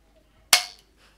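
A single sharp crack from a toy cap pistol, loud and close, with a quick decay in a quiet room.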